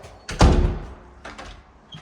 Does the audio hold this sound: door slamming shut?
yes